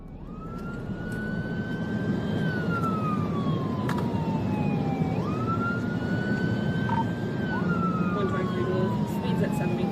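A police car siren wails during a high-speed chase on an interstate, its rising and falling tone loud and steady over a heavy roar of engine and road noise.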